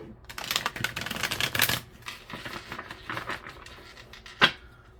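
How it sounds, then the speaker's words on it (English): Stiff playing cards are shuffled up close, giving bursts of rapid flicking and riffling, then a sharp snap as the deck is squared. "These cards are really difficult to shuffle."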